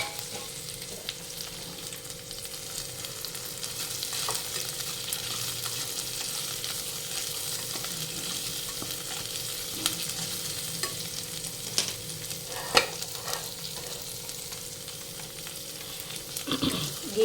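Bay leaf, cloves, cinnamon and cardamom sizzle in a little ghee with a steady, close frying hiss, marked by occasional soft clicks of stirring.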